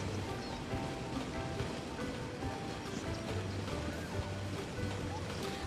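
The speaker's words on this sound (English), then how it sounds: "Looks like it's going to rain in-game as well." Steady rain falls across a city in the Cities: Skylines building game, a soft, even wash of patter that stays faint and continuous throughout with no breaks.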